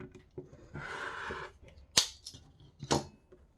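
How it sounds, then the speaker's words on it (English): Trimming extra fabric off a quilt block along a ruler, a short rasping cut followed by two sharp, quiet snips close by, with no talk. "I am going to put my ruler just a 1/4 inch away from that seam, and I'm going to trim off the extra."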